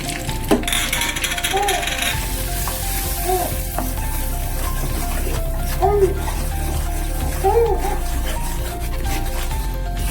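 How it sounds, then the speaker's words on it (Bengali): Wheat flour stirred continuously in melted ghee over low heat for atta halwa, a constant soft sizzle with repeated scraping and metallic spoon clinks against the pan, no talk. "এটা ভালো করে কন্টিনিউ নাড়তে হবে"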